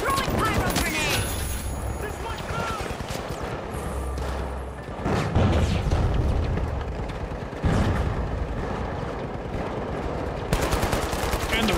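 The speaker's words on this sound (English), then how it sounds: "Throwing pyro grenade." Gunfire and explosive bursts from The Finals multiplayer shooter as a pyro grenade is thrown, loud rattling shots and booms continuing throughout amid destruction noise.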